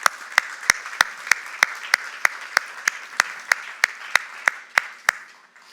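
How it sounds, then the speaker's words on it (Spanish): Rhythmic clapping rings out in a church service, a steady beat of sharp, evenly spaced claps about three per second against a softer wash of applause, slowing and thinning toward the end. "Denle un aplauso al Señor."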